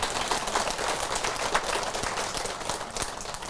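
An audience claps at a Buddhist Sunday dharma talk: a steady, dense wash of many hands clapping together, filling the whole stretch at a moderate level with no voices over it.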